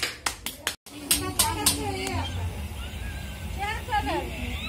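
A few quick hand claps for a singer at a New Year 2022 gathering, loud and close at the start and then stopping, followed by casual talking and laughter in a small room.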